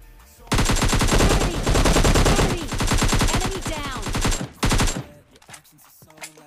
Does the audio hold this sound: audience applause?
no